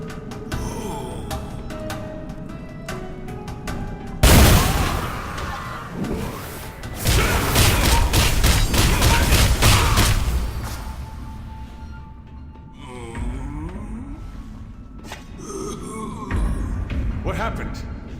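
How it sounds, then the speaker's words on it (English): An explosion in the video game Blade & Soul: a sudden loud crashing blast, then a longer rumbling burst of debris a few seconds later, with quieter game sounds and effects around it. "I heard an explosion."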